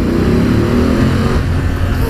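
A BMW F750GS motorcycle engine revs hard inside a tunnel, a loud, close, continuous roar with reverberant low rumble that holds steady for about two seconds.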